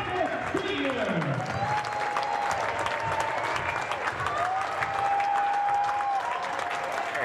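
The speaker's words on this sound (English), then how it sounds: "let's give a huge round of applause for the 2020 seniors." Steady crowd applause and cheering in a gym on senior night at a girls' high school basketball game, continuous clapping with faint whistles and voices throughout.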